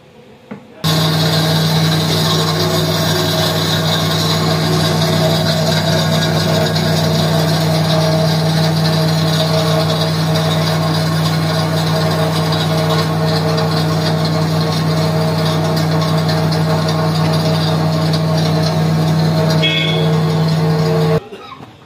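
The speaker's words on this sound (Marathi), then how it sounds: "आता आपण फिश मसाला या ठिकाणी ट्राय करतोय, डेमो घेतोय या मशीनवरती" A masala grinding machine grinding fish masala runs as a loud, steady motor drone with a constant low hum. It starts abruptly near the beginning, holds for about twenty seconds, then cuts off, with no talk.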